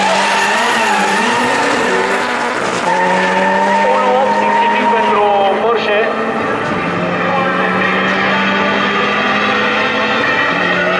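A Porsche 911 Turbo S races a Mini Cooper 1.6 Turbo with 380 hp, engines howling and rising in pitch through gear changes. Tires squeal and a voice talks over it throughout.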